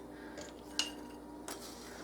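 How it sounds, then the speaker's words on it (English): A spoon tapping against glass pint canning jars while onion soup mix is portioned in, giving two brief clinks about a second apart over quiet room tone. "I take some packaged onion soup mix, real simple, and I put 1 teaspoon in each pint"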